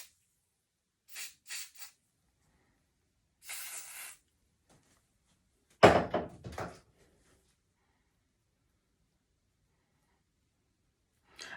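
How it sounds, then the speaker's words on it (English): Short hissing bursts of hairspray misted onto a Brazilian hair closure unit, a few quick puffs followed by a louder clatter, close and isolated in a quiet room. "I just spray it."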